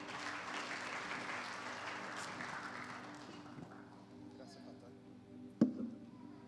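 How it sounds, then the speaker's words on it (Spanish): Church congregation applauding, a broad clatter of clapping that starts full and gradually fades over several seconds, ending with a sharp thump near the close, with faint voices in the background. "Den un fuerte aplauso al Señor."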